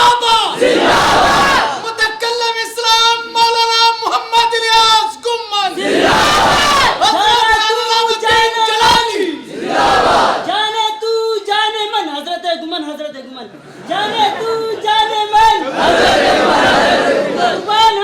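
A large crowd at a religious gathering answers a takbir call with loud, chanted slogans in repeated surging bursts, many voices roaring together with brief dips between each cry.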